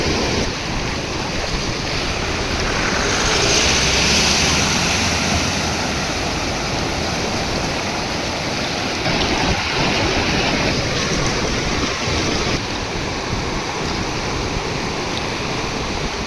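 Bhima river floodwater pours over the submerged Daruwala bridge in Rajgurunagar, a loud, unbroken rushing roar blended with gusting wind on the microphone.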